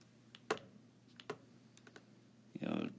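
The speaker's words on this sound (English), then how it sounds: "I type that into my calculator" A few sharp calculator key presses for a trigonometry problem, spaced irregularly and fairly near, with a brief burst of soft noise at the end.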